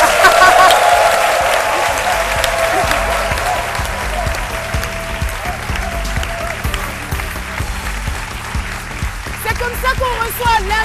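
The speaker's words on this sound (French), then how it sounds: "On l'applaudit très fort." Studio audience clapping loudly for a surprise guest on a French midday show, a dense sustained round of applause that slowly thins, with a host speaking over it.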